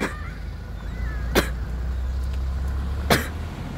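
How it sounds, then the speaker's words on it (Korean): Two short, sharp coughs ring out a couple of seconds apart over a low, steady background hum. "왜 너무 기침해?"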